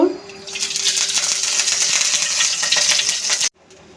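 Garlic sizzling in a little hot oil in a pan, a loud, steady crackling fry that starts abruptly and runs close for several seconds before cutting off sharply.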